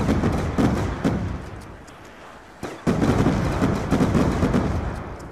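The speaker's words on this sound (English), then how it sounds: "So many explosions." Loud, rumbling explosions in the TranZit zombies game mode boom one after another in a dense barrage, with a brief lull before another burst hits.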